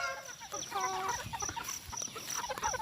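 Chickens cluck in short, scattered calls while foraging in grass at the edge of a rice field on an early morning, with a bright steady chirp of insects or birds running underneath.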